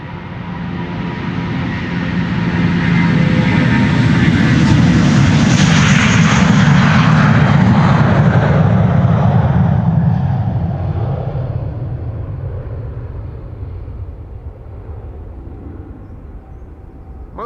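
A JetBlue airliner departing Amsterdam Schiphol for New York JFK swells into a loud, broad jet roar that peaks mid-pass and then slowly fades into the distance, with no voices.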